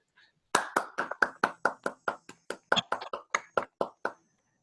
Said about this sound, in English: let's briefly unmute ourselves to applaud